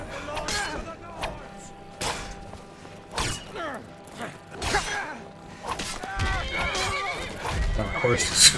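Horse whinnying in Skyrim amid combat-style game noise, several neighs and snorts scattered through with hoof clatter and mechanical clanks, fairly loud and close.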